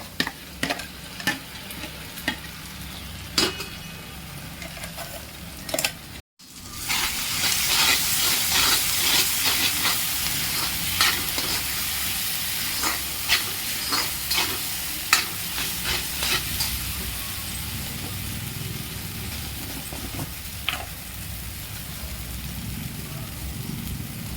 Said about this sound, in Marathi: आता त्यात हे वाटण घालू आणि वाटणही परतून घेऊ